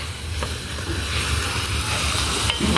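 Sarciadong tilapia sizzles steadily in a pan while being stirred, a close, continuous frying hiss with faint scraping and occasional clinks throughout.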